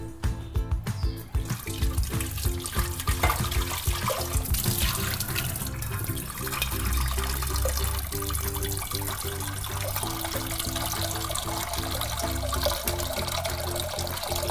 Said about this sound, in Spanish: Vamos a echarles agua.